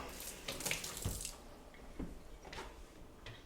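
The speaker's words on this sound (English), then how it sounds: "Give me another spoon. Rinse." Tap water runs into a sink as a spoon is rinsed, a steady close splashing with brief clinks and shifts in the flow, no voices.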